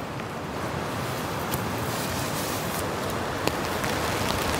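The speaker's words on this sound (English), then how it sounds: "There's actually quite a bit of rain coming down." Heavy rain shower with gusting wind pours onto a tarp at a campsite, making a dense, steady hiss with occasional louder drips and flaps, close and continuous, with no voices.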